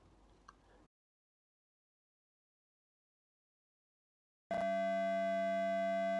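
After a faint rustle and a long silence, a loud harmonically rich synthesized drone shaped by formant values abruptly begins and holds steady to the end.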